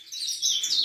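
A caged saffron finch gives a quick run of high, bright chirps, close by and alone for under a second.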